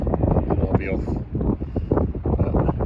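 Gusty wind buffets the microphone at a coastal fishing mark, a low, rumbling, uneven roar that swells and dips throughout.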